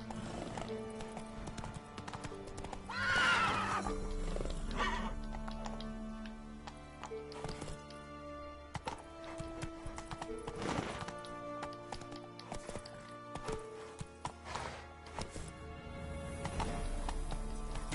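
Horse hooves clip-clopping in The Witcher 3, a rapid run of light rhythmic hoofbeats under continuous game music and ambience, moderately quiet and steady throughout.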